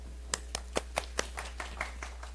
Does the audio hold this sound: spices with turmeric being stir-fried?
no